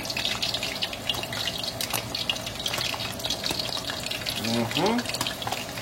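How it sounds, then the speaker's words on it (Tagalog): Chopped pork intestines frying in hot oil, a steady loud sizzle and crackle throughout, with a voice talking briefly near the end. "Simulan na po natin ang ating pagpiprito."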